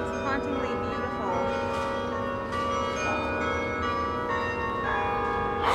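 Church bells ringing from a tower high above a church near Yale University, steady layered tolling tones sustained throughout, fairly loud and close, with a few faint voices underneath.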